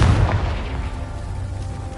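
A blasting spell explodes in Hogwarts Legacy, a heavy booming detonation at the start that rumbles and decays over the next two seconds, loud and close with no talking.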